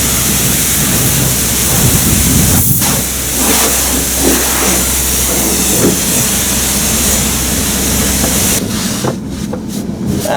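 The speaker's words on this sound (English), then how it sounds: "I think this is our high pressure rinse." High-pressure rinse jets spray across a car inside an automatic car wash bay, a loud, steady rushing hiss of water with deep rumbling mechanical drone, continuous throughout with a slight shift near the end.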